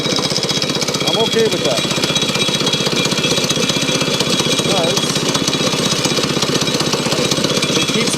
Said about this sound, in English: for some reason my engine don't want to idle down, which is fine.